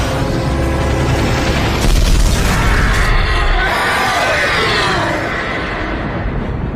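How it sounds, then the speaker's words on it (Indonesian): A helicopter crashes and explodes in the fantasy film D-Wars, a loud booming blast with crashing debris that swells around two seconds and then rolls off into a long rumbling, hissing decay. "helikopter tersebut jatuh dan meledak"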